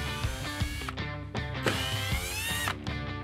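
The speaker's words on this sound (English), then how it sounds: "We do recommend using a power drill though" A power drill on its lowest setting whirs in short bursts, its motor pitch rising and falling as it stops and starts while driving Phillips screws on a 2018 or later Jeep Wrangler JL taillight, fairly close.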